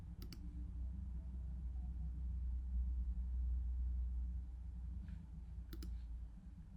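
Computer mouse clicks while installing a Shopify app: two quick, crisp double clicks, one at the start and one near the end, over a low steady room rumble.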